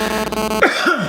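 A man gives a short, stuck-sounding cough, a single rough throat-clearing burst heard close up after a moment of steady background tone.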